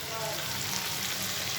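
Spices with turmeric, coriander and cumin sautéing in a pan for a fish-head and Malabar spinach curry, a steady close sizzle and fry holding even throughout with faint stirring underneath.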